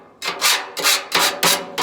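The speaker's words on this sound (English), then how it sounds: "So while this is still really hot, I just scrape all this stuff." A metal scraper rasps across a hot Blackstone griddle, pushing off cooked-on residue in four firm, rhythmic strokes with a fifth starting, each a bright, close scrape separated by short pauses.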